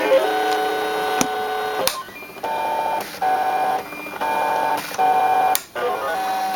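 An eCraft cutting machine draws shapes onto thick paper, its motor whirring in short bursts with bright electronic tones and clicks between moves, close and steady.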